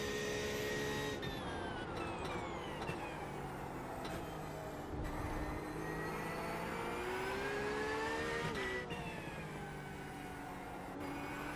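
Race car engine in iRacing held at high revs under full throttle, a loud continuous whine that climbs and shifts pitch with gear changes, steady and close without pause.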